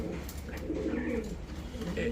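Deshi pigeons, two pairs kept at a sale centre, cooing softly in low rolling calls under a steady background hum, with someone talking nearby.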